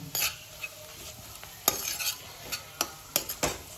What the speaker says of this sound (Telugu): దీన్ని కూడా మంచిగా పచ్చి వాసన పోయేంతవరకు మనం ఈ విధంగా కలుపుకొని వెయిట్ చేయాలి